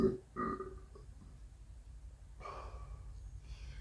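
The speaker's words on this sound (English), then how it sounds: "Got one more burp in me." A burp after eating habanero peppers during a pepper taste test, one short throaty eructation at the start followed by a softer breathy release, close and fairly loud, with no talk over it.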